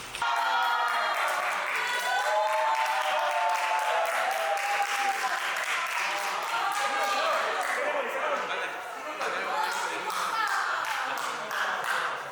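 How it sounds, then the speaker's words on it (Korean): Crowd at a first-ever gaming league event cheers and applauds as winners are announced, a dense wash of clapping and shouts with voices mixed in, sustained and fairly loud throughout. "우승자가 나올 때마다 환호 소리가 터져 나옵니다"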